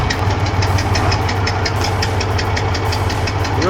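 A big diesel engine of a Russian K700 tractor runs steadily with a rough, rhythmic knocking chug, loud and constant throughout.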